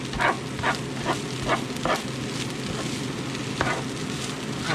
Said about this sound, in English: So I'm now going to add it in, and this is just some plain brown rice. And I'm going to stir it in.